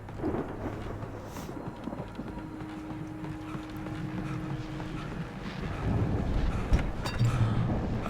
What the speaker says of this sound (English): that storm we all felt coming is finally here